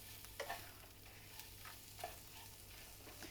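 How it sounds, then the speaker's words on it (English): Tofu stirred with spices, tomatoes and peas in a frying pan, a faint sizzle under a few soft scraping stirs. "Now it's time to add the tofu back into the frying pan."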